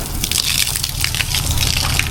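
Water gushes steadily from a hose over a freshly painted vehicle, a continuous loud spray and splash close by.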